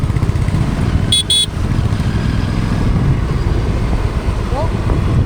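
An Aprilia RS 457 motorcycle engine drones loudly and steadily in busy Indian road traffic, with a short double horn toot early on and voices talking over the constant roar.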